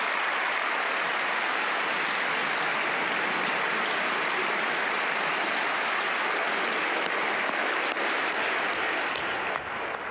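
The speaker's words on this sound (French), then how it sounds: "Il y en a eu d'autres, des applaudissements dans l'hémicycle." Sustained applause fills the French National Assembly chamber, a dense, steady wash of many hands clapping at constant loudness for the whole stretch, with no voices standing out.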